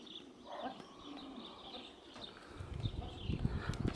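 Racing pigeons arrive at a club loft in Moszna, Poland, with soft cooing and faint chirps over steady outdoor background noise, and a louder rustling, thumping bustle building toward the end.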